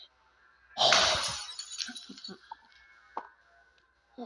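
Glass shattering in the Among Us video game: a loud, sudden crash followed by scattered tinkling shards and small clinks that trail off over a few seconds.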